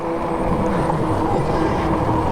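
A car passes close by a cyclist on a Saturday morning ride through a neighborhood street, a steady broadband engine and tire rumble that stays loud for the whole stretch, with no talking.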